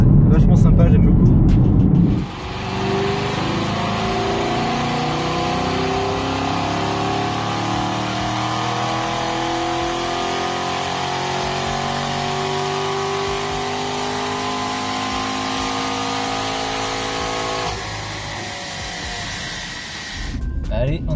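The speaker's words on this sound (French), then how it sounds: "On a quand même de temps en temps des petits retours à l'échappement, mais c'est toujours vachement sympa" A 2017 Chevrolet Camaro SS with a 450-horsepower engine drives along, its engine and exhaust a steady, loud droning roar with slowly shifting tones that holds for about fifteen seconds before cutting off.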